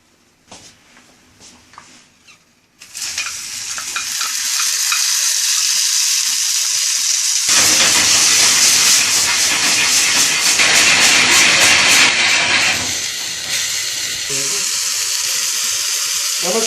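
Stew drops into hot oil in a pan and breaks into a loud, steady sizzle after a quiet start. The frying hiss rises further midway and stays strong to the end.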